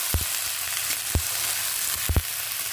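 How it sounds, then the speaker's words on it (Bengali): Vegetables fry in a pan with spices, producing a steady close hissing sizzle with three sharp knocks or scrapes of a spatula against the pan. "এই পর্যায়ে দিয়ে দেব সবজিগুলো। এটা একটু সুন্দর করে ভেজে নেব।"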